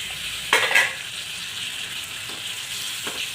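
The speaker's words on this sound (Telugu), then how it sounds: "ఇలా కలుపుకోవాలి ఇలా బ్రౌన్ కలర్ వచ్చేంత వరకు వేయించుకోవాలి రొయ్యలు" Prawns frying in a pan with a steady hiss and sizzle, and a couple of scraping stirs from a spoon breaking through near the start and later on.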